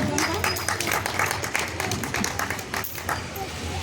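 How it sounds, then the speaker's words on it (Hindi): Loud applause from a gathering of women at a Savitribai Phule birth anniversary celebration in Brahmapuri, dense rapid clapping mixed with crowd murmur and some voices, sustained throughout. "तो हम सभी महिला उनके लिए एक बार जोरदार तालियां हो जाए।"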